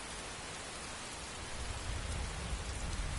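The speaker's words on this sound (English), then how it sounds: "You can hear the batting of the rain on the helmet" Rain drums on a helmet in Skyrim, a continuous close hiss of drops whose low thudding swells partway through, with no voices.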